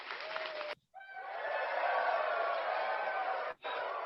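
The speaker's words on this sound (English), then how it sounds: "I got some applause." A canned applause sound effect, a steady burst of clapping and crowd cheering that cuts out twice in short gaps before resuming, fairly faint and heard alone.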